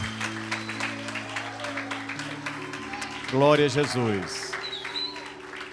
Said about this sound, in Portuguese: Vamos aplaudir a Jesus pela vida deles.